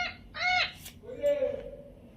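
A magic board toy plays a recorded parrot call: two or three short, bright electronic squawks in quick succession, fairly quiet over a low background hum.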